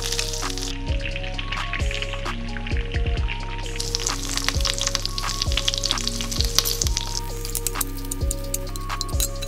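Freshly caught duck meat fries in a hot pan outdoors. A loud, steady sizzle and crackle runs throughout, with occasional scraping and clinking from stirring, and no talking.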